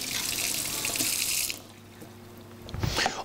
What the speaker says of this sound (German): Man kann das Ganze natürlich kurz mit kaltem Wasser abschrecken